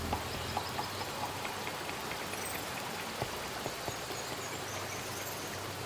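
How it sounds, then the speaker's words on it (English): A hidden waterfall in the Spyro Reignited Trilogy video game gives off a steady, even rush of falling water that fills the scene without a break, with no voices. "I do love the hidden waterfall though, and it's very sneakily hidden away."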